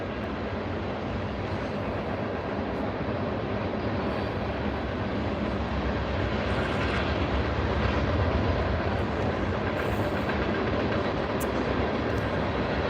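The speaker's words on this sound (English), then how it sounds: "There's a train going by." A train rumbles past outdoors, a steady, loud, broadband roar that holds for the whole stretch and swells slightly toward the middle without any clear break.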